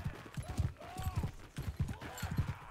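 Horse hooves clip-clop in steady repeating bursts in the medieval battle game Mount and Blade 2: Bannerlord, close and fairly loud, with a faint whinny-like tone drifting above.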